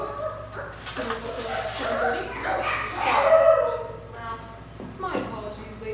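Dogs bark, yip and whimper in a high school stage production of Clue, several short bursts scattered over a low steady hum, with voices mixed in among them.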